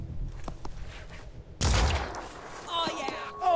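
Quiet game ambience with faint talk gives way to a sudden loud burst of gunfire and impact noise, followed by lingering rumble and electronic tones, in Phoenix Point: Terror from the Void.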